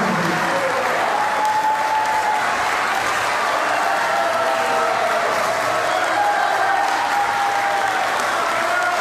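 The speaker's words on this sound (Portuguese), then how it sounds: "uma salva de palmas" Sustained audience applause fills a hall at a political rally for democracy, dense steady clapping that carries on for the whole stretch with faint crowd murmur and a little distant talk underneath.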